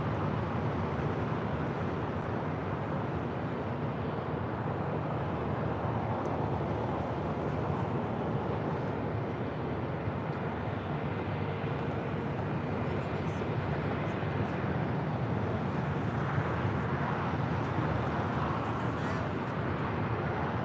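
Boeing 787-8 Dreamliner, Flight 62 from Tokyo, arriving on the north side at LAX: a steady, distant jet roar holds through the whole stretch, with voices talking over it.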